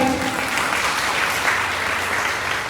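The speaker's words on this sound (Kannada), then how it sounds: "ಸೊ ಬರ್ಲಿ ಚಪ್ಪಾಳೆ." A group of people clap together at a saree draping class in Dharwad, a steady dense round of applause lasting a few seconds without pause.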